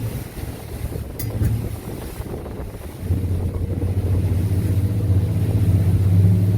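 A used 2014 Grady White 228 boat turns around on ocean swells, its engine droning low and rising in loudness as it swings, with wind buffeting the microphone throughout.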